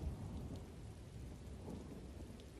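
Thunderstorm in Elder Scrolls Online, with steady heavy rain hissing throughout and a deep, continuous rumble of thunder rolling underneath, loud and enveloping with no voices.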